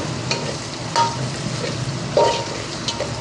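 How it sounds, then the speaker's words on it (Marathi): Onion stir-fried in a pan for misal until browned, with a steady sizzle and occasional louder scrapes and stirs close by; no talking. "कांदा चांगला ब्राऊन कांदा करायचा, याला लालसर करायचा कांदा"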